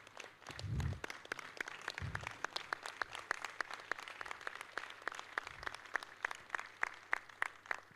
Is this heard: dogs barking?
no